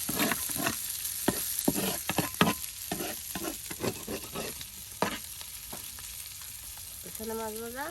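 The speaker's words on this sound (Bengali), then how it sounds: "একদম মচমচে মাছ ভাজা এই যে নানি কিন্তু ভেজে নিল" Fish fries crisp in hot oil in a rural village kitchen, sizzling steadily under repeated scraping and clattering stirs, with a brief tonal sound near the end and no speech.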